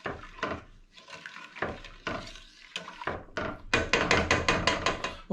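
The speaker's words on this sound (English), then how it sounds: "So I'm just going to give this a stir." A spoon works through a heavy, thick homemade apple cordial mixture in a pot, giving close scraping and knocking sounds against the pot that grow into a quicker run of sharp taps toward the end.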